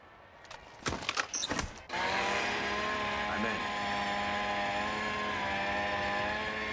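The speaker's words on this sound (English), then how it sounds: "RC planes loaded with C4." A small engine buzzes at a steady high pitch, the drone of a C4-loaded RC plane in Call of Duty: Modern Warfare, starting after a few short knocks and holding loud and even to the end.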